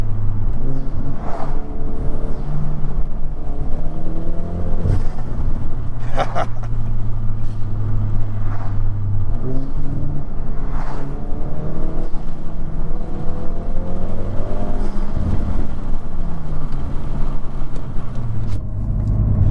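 Hyundai Veloster N with a dual-clutch transmission and aftermarket modifications, heard from inside while driving: a loud, steady engine drone with rising revs through gear changes and sustained road rumble, no talking.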